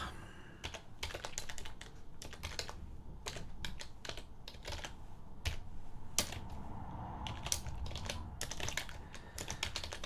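Rapid, uneven keystrokes clatter on a computer keyboard, bursts of light clicks with short pauses, quiet and close with no talking.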